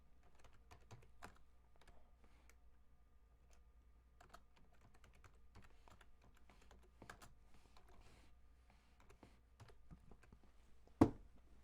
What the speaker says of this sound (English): I tried typing, my keys getting stuck.